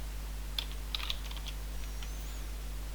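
Light clicking of a computer keyboard as a comment is typed, a few scattered keystrokes and short bursts over a steady low hum, close and fairly soft, with no talking.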